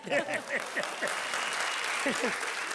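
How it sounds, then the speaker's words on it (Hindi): Audience applause breaks out at a comedy stage show, a dense patter of clapping at moderate level with voices calling out over it near the start and again toward the end. "अब बजाओ ताली।"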